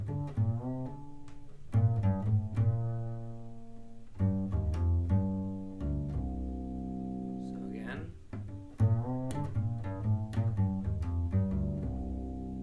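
A jazz bass plays a melodic sequence descending by thirds, clear plucked notes in short phrases with brief pauses, heard alone without talk.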